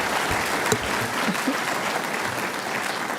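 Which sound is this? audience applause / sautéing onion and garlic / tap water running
audience applause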